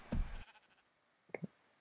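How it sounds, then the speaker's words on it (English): Sheep bleating in the Minecraft video game, a short blocky bleat at the start followed by a quieter double bleat near the end, with near silence between them. "Alright, the sheep are everywhere."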